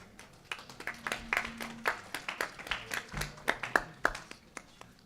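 Scattered, fairly sparse clapping from a small audience at a university pitch competition, with individual claps rising and falling over about five seconds as a winner is called up.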